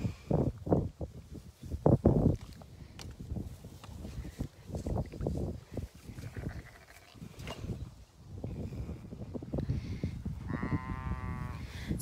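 Sheep and lambs bleating on a small farm flock, several calls overlapping at varied distances, with some louder near bleats and one long wavering bleat near the end over low barnyard rustle; no talking.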